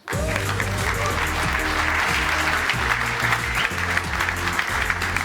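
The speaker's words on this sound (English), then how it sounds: "Why don't we get her out with a big round of applause from Job Seekers." A studio audience at a job-seekers game show gives a contestant a big round of applause, dense continuous clapping starting abruptly and holding loud, with a musical sting underneath.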